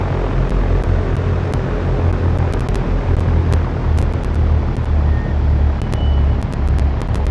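A Cessna 172 single-engine piston plane in the X-Plane 11 simulator taxis off the runway with its mixture leaned; a steady, loud, close engine drone and rumble runs throughout, with faint clicks scattered over it.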